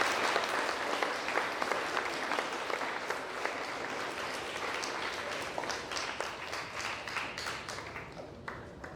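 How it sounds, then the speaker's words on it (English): At an awards ceremony for a prep class, an audience claps in a dense, continuous round of applause that gradually thins toward the end, with a few sharper individual claps standing out. "So give him a round of applause."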